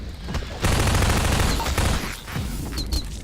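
A submachine gun fires in Half-Life 2: Aftermath as one loud, sustained automatic burst that lasts a second and a half, then trails off into softer echoing reports.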